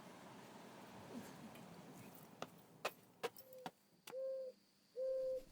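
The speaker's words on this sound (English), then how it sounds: "the 2 turtle doves arrived this morning and are cooing away in the pear tree as I write" Two turtle doves coo from a pear tree, two sustained tonal calls near the end, preceded by scattered clicks and knocks over a quiet room background.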